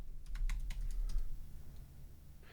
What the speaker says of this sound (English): For this example, I'm going to type in keyboard.